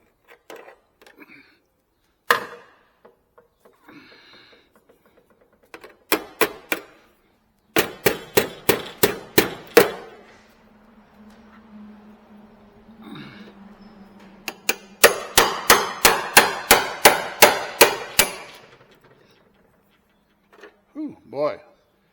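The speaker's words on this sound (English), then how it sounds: "A little prying, a little hammering." Sharp metallic clanks and hammer blows ring out in quick bursts on the trunk metal of a Ford Edsel, with stretches of prying and scraping between them and a voice talking briefly.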